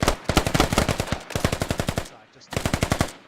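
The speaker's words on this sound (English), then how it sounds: "Oh, we're seeing some gunshots here." Machine gun fire rattles in a military shooter video game, three rapid bursts of evenly spaced loud shots with brief gaps between them, close and sharp.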